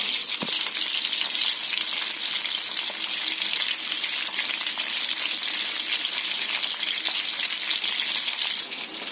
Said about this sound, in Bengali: ডিমটা ভাজা হতে থাকুক